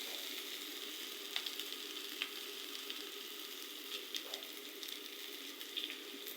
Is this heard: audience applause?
no